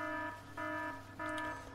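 A game alarm sounds in Factorio, a steady multi-tone electronic buzz pulsing in three bursts with short gaps, loud and alone.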